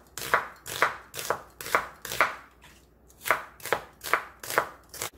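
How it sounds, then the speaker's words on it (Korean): A knife chops half a large onion for pork kimchi stew in short bursts of sharp, close thuds on a board, about ten strokes with one brief pause, with no voices. "썰어서 준비해 줍니다. 양파 반 개만 쓸게요."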